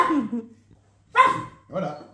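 A person imitates a dog barking with their voice, giving three hoarse, tired-sounding vocal barks at close range with short pauses between them.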